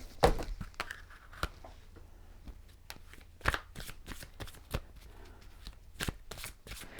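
Oracle cards being shuffled by hand, a series of soft, sharp riffling snaps and flicks at uneven intervals, close and fairly quiet with no talking.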